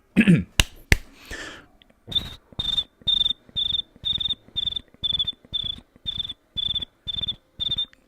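After a few quick clicks and a cough, a cricket chirps in a steady rhythm, about a dozen evenly spaced bright trills, loud and close.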